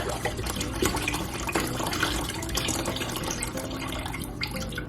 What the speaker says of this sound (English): So I'll just pour the rest in there.